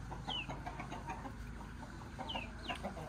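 White Shamo chickens and chicks cluck and call softly in a steady, close, low-level run of overlapping bird sounds, with a few brief higher chirps standing out.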